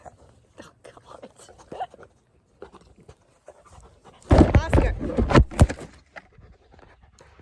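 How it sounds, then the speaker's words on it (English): A dog pants in quick, breathy bursts close by, loudest in a short stretch midway, with quiet speech and soft movement around it. "He's a pretty puppy."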